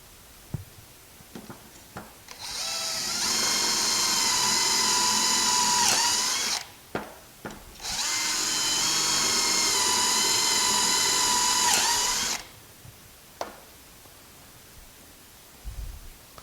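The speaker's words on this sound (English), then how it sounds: "Drop our drill bit in." A power drill whines loudly in two long bursts of several seconds each, boring into construction lumber table legs, separated by a short pause, with light clicks and handling noise between.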